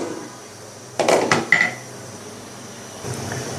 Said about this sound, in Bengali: আমি এটা আবার ঢাকনা দিয়ে ঢেকে দেবো